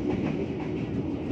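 A KA Mataram passenger train runs through the night from Pasar Senen, Jakarta toward Klaten, filling the carriage with a steady, loud rumble and faint rhythmic wheel clatter, with no voices.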